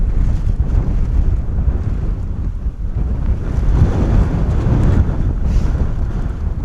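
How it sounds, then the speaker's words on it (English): Strong wind of about 35 knots buffets a microphone at an airport, a loud, continuous low roar and rumble with gusting swells and no speech. "The wind keeps taking my camera."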